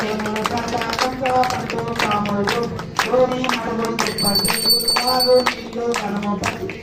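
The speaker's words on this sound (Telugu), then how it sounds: "అందరు చప్పట్లు కొట్టండి" A crowd at a Ganesh puja claps in steady rhythmic beats over voices that chant or sing, with the hand claps mixing with the crowd noise throughout.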